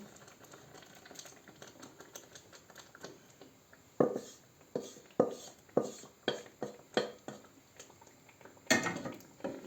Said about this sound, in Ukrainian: Перемішуємо і так само, аби перекипів